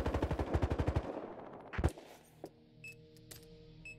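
Rapid gunfire from the video game Battlefield Hardline, a fast burst of evenly spaced shots followed by a loud single crack, then sparse distant pops over in-game ambience.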